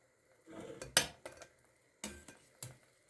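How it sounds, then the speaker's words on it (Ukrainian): A spoon scrapes and clinks against a bowl in a few short irregular strokes, quiet and close, with pauses between, mixing boiled pelmeni dumplings with oil and butter. "Змішаю обратно стороною ложки."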